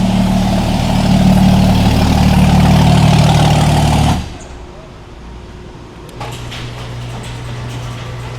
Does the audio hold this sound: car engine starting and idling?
yes